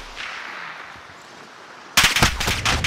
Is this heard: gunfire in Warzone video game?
yes